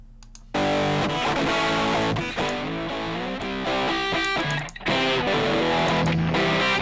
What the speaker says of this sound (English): This extra grunge will cut through mixes harder than any other form of distortion